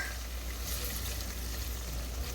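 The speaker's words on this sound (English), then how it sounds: "I'm going to allow the onions to cook in the olive oil just like a few minutes." Onions cooking in olive oil over medium heat give off a steady, soft sizzle and crackle, close and even throughout with no talk.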